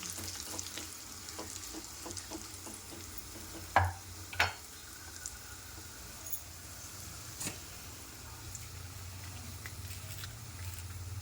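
Tempering for drumstick sambar with curry leaves and turmeric sizzles steadily in hot oil throughout, with a few sharp crackles and pops and faint background noise, no talking.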